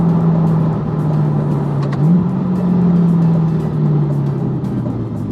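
A brand-new C8 Corvette Z51 accelerates from inside the cabin, its engine droning steadily, dipping briefly as a gear shift cuts in, then pulling strongly again with a loud, sustained hum and no talking.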